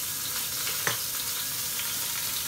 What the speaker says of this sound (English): so we're just going to add an onion